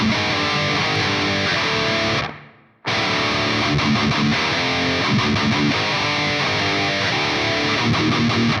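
A heavily distorted electric guitar in D standard tuning chugs through a riff, loud and dense with palm-muted low power chords, cutting out briefly near the start before the riff resumes and drives on steadily.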